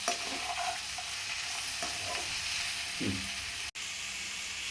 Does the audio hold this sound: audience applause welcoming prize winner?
no